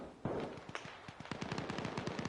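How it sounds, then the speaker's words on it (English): Automatic and single gunfire from a competitive Arma Reforger match, rapid bursts of sharp cracks and pops crowding together, some distant and some nearer, rising into a steady exchange with no talking. "Let's see if these two move hearing the gunshots"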